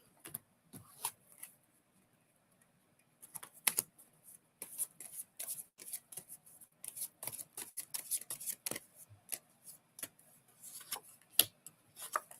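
A deck of tarot cards being shuffled, faint crisp riffles and flicks coming in quick irregular bursts with short quiet gaps, close up and with no talking.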